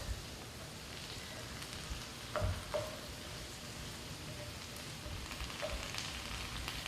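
Pre-cooked shrimp heat in a pan with a steady, soft sizzle, broken by a few brief stirring knocks and scrapes near the middle.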